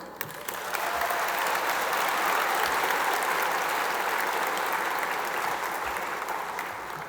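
Sustained audience applause at the 2023 SLCC convocation: a dense, steady wash of clapping from a large crowd that holds strong for several seconds and then begins to thin out.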